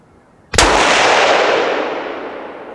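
A single loud rifle shot fired off-hand at a target, sharp and close, followed by a long rolling echo that fades slowly over the next two seconds.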